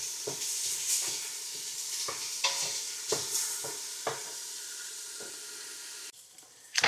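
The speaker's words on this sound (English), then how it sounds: "I'm going to put in our onions. And we're going to fry them a little bit." Onions fry in one big pot for a chili cornbread casserole, giving a steady close sizzle with repeated scraping stir strokes throughout, ending in a brief quieter moment and a final clatter.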